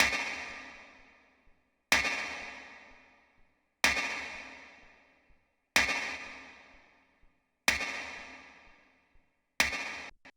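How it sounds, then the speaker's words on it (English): A printed snare reverb track: six evenly spaced snare hits about two seconds apart, each a sharp bright crack trailing into a long washy reverb tail that decays before the next, alone with no talking. "Then I have a snare reverb track"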